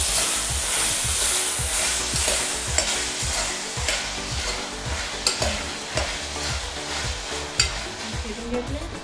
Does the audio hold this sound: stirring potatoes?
yes